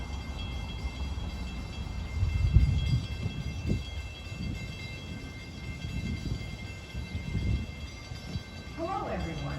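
A diesel commuter train approaches New Hyde Park station at slow speed on an approach signal, a low steady rumble running the whole time with swells, and a brief tonal sound near the end, while people talk nearby.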